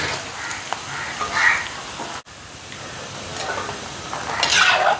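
Pieces of tender jackfruit deep-frying in oil give a steady close hiss with bubbling crackle that swells now and then, broken by one brief drop near the middle.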